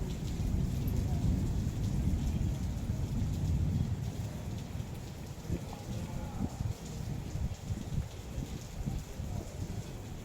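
Steady rain falls outside a hotel veranda in Puri at dawn, a dense continuous wash of patter close by with some brief louder spatters, and no talking.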